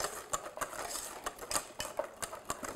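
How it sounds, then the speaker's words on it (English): A whisk clinks rapidly against a bowl while chocolate mixture is beaten for a chocolate dome cake, giving quick, irregular metallic taps close by with no talking. "whisk it in"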